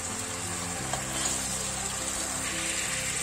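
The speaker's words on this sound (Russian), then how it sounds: "А в сотейнике продолжим пассеровать репчатый лук, нарезанный мелким кубиком." Finely diced onions sautéing in a sauté pan, a steady close sizzle and hiss that grows slightly denser partway through, with no talk over it.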